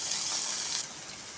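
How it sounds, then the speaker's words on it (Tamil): Two eggs cracked and poured into hot oil in the middle of a pan of spinach and egg podimas give a loud, bright hiss and sizzle that drops to quieter frying partway through. "இப்போ 2 முட்டையை அந்த நடுவில் உடச்சி ஊற்றலாம்."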